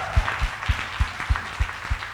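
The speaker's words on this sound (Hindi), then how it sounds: "कोई है जो जोरदार ताली बजाकर?" An audience claps in a steady, rhythmic beat, about seven sharp claps in two seconds, moderately loud and without voices.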